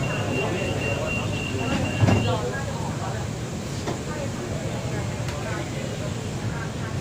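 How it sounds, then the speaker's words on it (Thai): A driverless rubber-tyred monorail train runs steadily with a low rumbling hum and a brief high tone, a few clicks and a bump partway through; someone talks over it. "จะเป็นรถไฟฟ้าล้อยางแบบไม่มีคนขับนะครับควบคุมระบบอัตโนมัตินะครับ"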